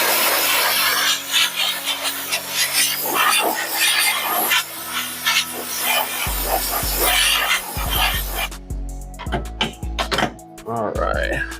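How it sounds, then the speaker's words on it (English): Scrubbing an object clean by hand, steady rasping strokes close up, broken by brief pauses and a few heavier knocks toward the end. "I'm going to try to scrub this one a little bit"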